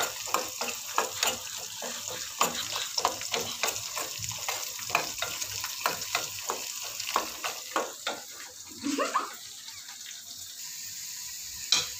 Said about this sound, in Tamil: ஃப்ரெண்ட்ஸ் பாருங்க குழம்பு நல்லா கொதிக்குது